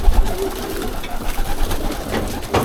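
A loft of racing pigeons murmurs with steady low cooing during feeding, several birds overlapping nearby with occasional brief shuffles and flutters.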